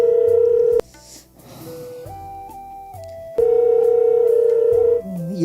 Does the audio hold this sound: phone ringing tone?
yes